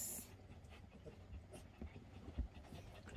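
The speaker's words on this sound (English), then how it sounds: "The dog terrorizing our RV." A dog inside an RV pants quickly and rhythmically at close range, soft and steady, with a few faint thumps, and no talking.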